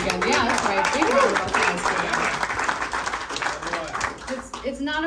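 Applause from a crowd at a Ducati team party in Austin, Texas, steady clapping heard under talking voices, fading toward the end as someone speaks.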